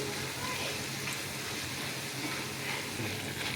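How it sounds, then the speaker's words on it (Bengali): Boondi frying in oil produces a continuous broad hiss and sizzle, close and fairly loud, steady throughout with slight swells. "বোঁদে কিন্তু ভাজা হয়ে গেছে"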